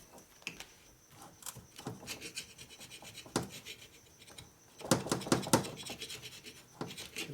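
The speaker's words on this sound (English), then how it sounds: "This doesn't like taking gasket material straight off" Old gasket material is scraped off the head of an S&S 113ci Evolution Harley engine, with irregular rasping strokes of a tool on metal, some short and some heavier, close up and without speech.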